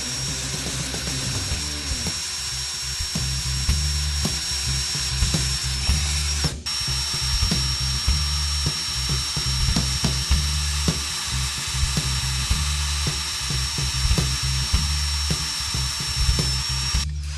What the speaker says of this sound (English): First, drill a pilot hole.